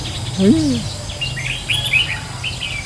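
Decoy songbird singing in the open outdoors, giving a few high, bright chirps and short warbled notes scattered through the clip over a steady low background hum, fairly close, with one lower rising whistle near the start.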